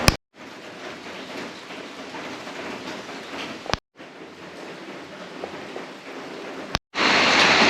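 Steady rain falling at night, a dense even hiss that stops abruptly twice with sharp clicks, then resumes louder and brighter near the end, with no voices.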